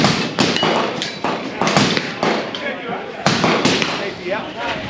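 Sharp gunshots from a 9mm Sig Sauer rifle ring out at an outdoor range during the Shot Show 2023 range day, several reports in quick succession alongside people talking nearby.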